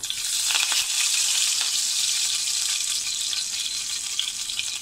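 Curry leaves dropped into hot oil crackle and sizzle steadily, a dense, bright frying hiss close by that holds throughout, with no voices over it.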